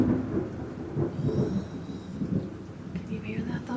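Thunder rolls low and continuous beneath steady rain during a storm indoors, a dull rumble that swells and fades over a few seconds, with faint patter and no voices.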